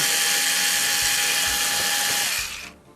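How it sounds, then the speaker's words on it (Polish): An electric screwdriver unscrews the casing of a CB radio, a high, steady whirring drone close up, with faint clicks beneath, running for over two seconds before spinning down to a stop. "używając oczywiście cyfrowego wkrętaka. Odkręcę obudowę"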